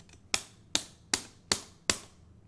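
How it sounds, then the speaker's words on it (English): Arcade stick inputs for a Ryu bread-and-butter combo in Street Fighter 4: five crisp, evenly spaced plastic clacks, close and distinct, with short silences between. "When I am executing a bread and butter combo with Ryu on Street Fighter 4, it sounds like this"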